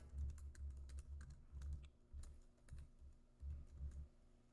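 Quiet, rapid typing on a computer keyboard, with soft key clicks in short irregular bursts over several seconds and no voice.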